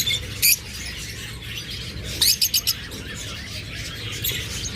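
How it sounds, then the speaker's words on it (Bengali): Young lovebirds about six to seven months old give sharp chirps, one short burst and then a quick run of four or five calls, close by over a steady background hiss. "এরপরে এখানে রয়েছে কিছু নিউডার লাভ বার্ড"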